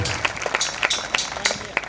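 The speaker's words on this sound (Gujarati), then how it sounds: "તાળીઓ તો પાડો" A festival audience claps steadily at a Kangopi Mahotsav folk performance, with dense, rapid clapping that rises in sharper bursts under a loud voice addressing the crowd.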